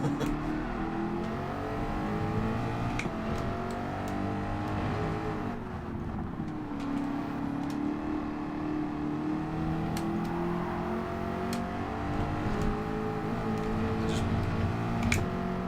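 Race car engine from a McLaren Group 4 car in Gran Turismo 7 at Catalunya, droning steadily at high revs throughout with shifting pitch, loud and continuous.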